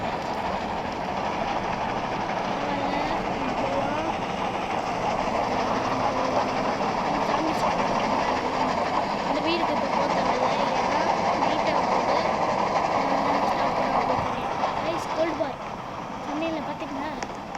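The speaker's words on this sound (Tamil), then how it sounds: "ஐயோ, ட்ரெயின் அங்கே போயிட்டுருக்கே." A train in a video game rumbles past with a steady rolling clatter, loud and continuous, with faint talk mixed in.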